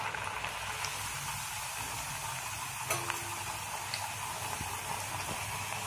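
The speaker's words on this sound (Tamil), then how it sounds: "இதை நம்ம இப்போ எண்ணெயில் போட்டு எடுத்துருவோம்" Appam frying in hot oil in a pan, a steady bubbling sizzle close by with a faint tap or two of a utensil.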